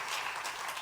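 A Sunday worship congregation gives a missionary a short burst of applause, a dense, fairly soft wash of clapping with no voices over it.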